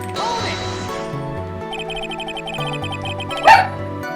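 A dog barks once within game music from Ace Attorney, a short, sharp yelp rising briefly above the steady melodic background near the end.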